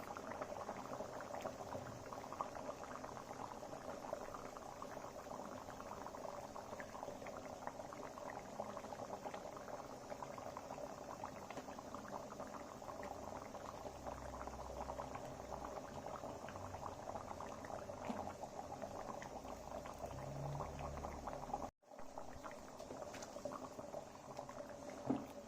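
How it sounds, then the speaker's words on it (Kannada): A pot of sardine (buthai) fish curry broth, Tulu-style pulimunchi, boils steadily with dense, continuous bubbling and no talk, broken only by a brief cut near the end. "ಸಾರು ಚೆನ್ನಾಗಿ ಕಾದಾಗಿದೆ. ಈಗ ಬೂತಾಯಿ ಮೀನನ್ನು ಒಂದೊಂದೇ ಸೇರಿಸೋಣ."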